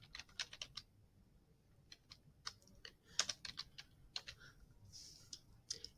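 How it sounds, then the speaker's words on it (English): Typing on a computer keyboard in a quiet room, a series of crisp clicking keystrokes in short bursts and pauses, close and moderately quiet with no voices. "And then up here, I type the person's name that I would like to partner with."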